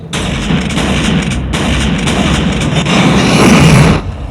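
Loud, rumbling blasts and booming gunfire-like bursts from the video game The Thing, continuous and heavy for several seconds before cutting off.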